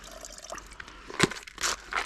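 Water drains off a homemade carp fishing bait mix, a few faint splashes and trickles in quick bursts, fairly quiet with no talking.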